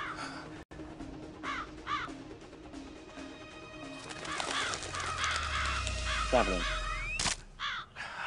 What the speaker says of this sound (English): Oh, crap, there's birds.